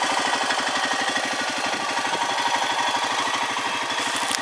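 A 2004 Honda Foreman Rubicon 500 4x4 ATV idles in neutral, its engine putting out a steady, even thrum with rapid regular pulses, close and continuous throughout with no talking.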